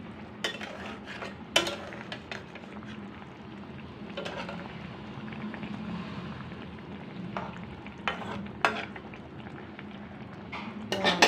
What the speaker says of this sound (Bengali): হয়েই এসছে একটু নাড়িয়ে দেখি